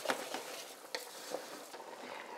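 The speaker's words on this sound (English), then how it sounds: "So what I'm doing now is I'm toasting the rice" Rice and onions toast dry in a pan for a risotto, making a faint, close stirring rustle with light scraping and small ticks of grains shifting, soft throughout with no voices.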